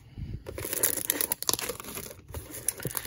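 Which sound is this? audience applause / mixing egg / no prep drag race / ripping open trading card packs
ripping open trading card packs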